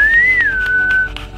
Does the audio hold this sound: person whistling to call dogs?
yes